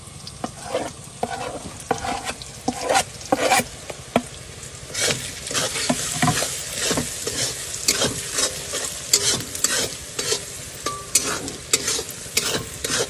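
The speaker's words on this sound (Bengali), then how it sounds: "আমার সমস্ত মশলা সুন্দর করে ফ্রাই করে নিয়েছি" Ground spices, pepper, turmeric, chilli, coriander, Kashmiri chilli and cumin, frying in a pan, with a steady sizzle broken by repeated loud scraping and clattering strokes of a spoon stirring, close and busy throughout.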